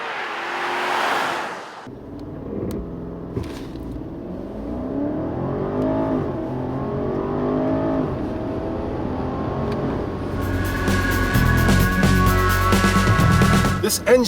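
A 2016 BMW 750i accelerates, its engine tone climbing in pitch through the gears as a smooth, sustained roar, with a broader, busier rush of noise near the end.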